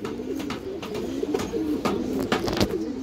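Several old-line pigeons coo steadily in low warbling phrases, close and fairly loud, with brief clicks and knocks scattered through and no speech.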